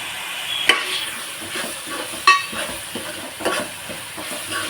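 Onion and tomato cooking down in a pan for a ridge gourd curry, a steady low sizzle broken by a few sharp spatula scrapes and clinks against the pan.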